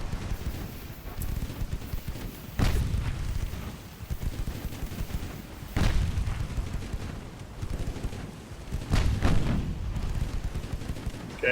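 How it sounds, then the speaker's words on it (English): The French battleship Lyon fires its guns in Ultimate Admiral: Dreadnoughts, with several heavy booming salvos spaced a few seconds apart over a constant rumbling naval battle backdrop. "The captain of Lyon decided he wanted to shoot at the destroyer instead."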